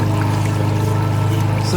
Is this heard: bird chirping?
no